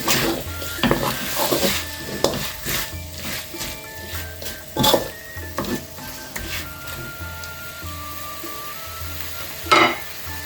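Vegetables cook in a pan for mee goreng, a steady sizzle beneath repeated stirring scrapes and sharp clanks of a utensil on the pan, close and moderately loud, with a few louder knocks spaced out.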